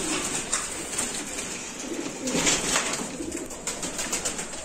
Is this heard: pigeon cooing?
yes